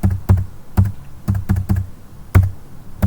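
Computer keyboard typing in accounting software, a close, loud run of distinct key thunks in an uneven rhythm with firmer presses standing out like the Enter key, no talk.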